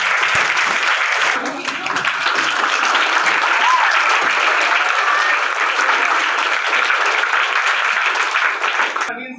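Loud, sustained applause from a crowd at a school farewell party for a head teacher, continuous clapping filling the whole stretch without a break.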